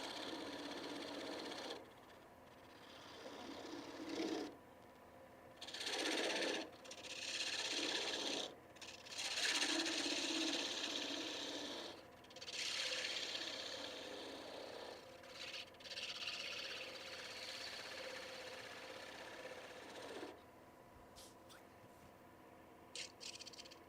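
A small turning tool cuts into a wooden bowl spinning on a lathe, giving repeated bursts of harsh, hissing scraping that start and stop as each pass is made, close and fairly loud, with quiet pauses between.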